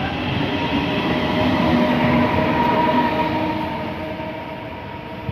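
A regional train at Mortara railway station gives a steady, loud rumble of rolling wagons, swelling slightly mid-way and then easing off, with no voices.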